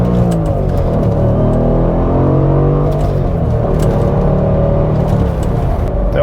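An Audi S4 with a 4.2 engine and a stage 1 ECU tune roars close and loud, revving hard and pulling away in a steady, continuous engine drone.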